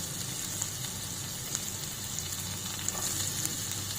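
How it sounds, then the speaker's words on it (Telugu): Finely chopped garlic, ginger and green chillies frying in a little oil: a steady, close sizzle with fine crackling, even and continuous throughout. "ఇందులో సన్నంగా కట్ చేసిన గార్లిక్, జింజర్, అట్లాగే పచ్చిమిరపకాయలు ఒక 2,"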